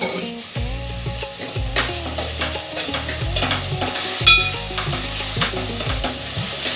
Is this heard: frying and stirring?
yes